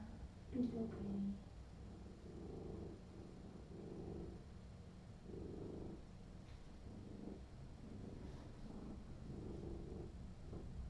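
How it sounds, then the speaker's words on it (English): A cat named Ramona, a feral cat, purrs up close in a steady low rhythmic rumble, each breath cycle pulsing through the quiet with only faint background noise. "What a good purr."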